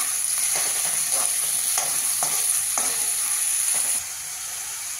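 Onion frying in a pan, a steady loud sizzle throughout with intermittent stirring scrapes, easing slightly toward the end.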